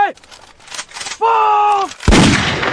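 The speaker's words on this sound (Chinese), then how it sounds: "枪声" A firing squad's gunshot cracks out loud and sharp after a raised voice gives the command, ringing on into a broad, booming tail to the end.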